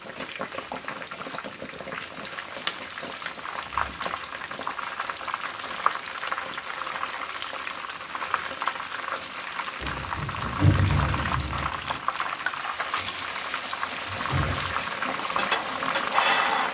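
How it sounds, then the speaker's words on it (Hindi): Fish frying in oil for Lahori fish fry, giving a steady loud bubbling sizzle with occasional low thumps and handling noises as the pieces are moved, with no talking. "मछली को फ्राई करते हुए 5 से 7 मिनट हो गया। अब हम इसकी साइड चेंज करेंगे।"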